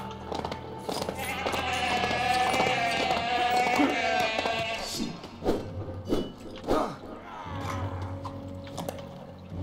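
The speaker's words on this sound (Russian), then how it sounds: "Окей, коза, симулятор козы." A goat bleats in the video game LEGO The Hobbit, a wavering cry over game music and ambience, followed by a few soft thumping footfalls.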